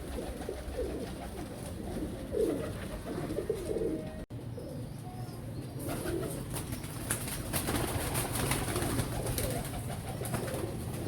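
Teddy pigeons cooing in a loft, soft low repeated coos with some rustling and bird chatter nearby, steady throughout with no voices over it.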